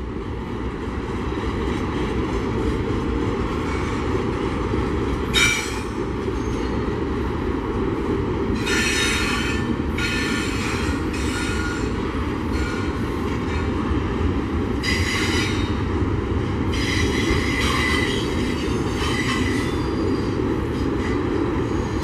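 Norfolk Southern freight trains meeting at CP Worley in Greenville, SC, with a loud, steady rumble of rolling cars and repeated bursts of high wheel squeal, close and continuous, no voices.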